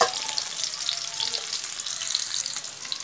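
Onion, garlic and ginger fry in hot oil with a steady, close sizzle and scattered faint pops. No one speaks.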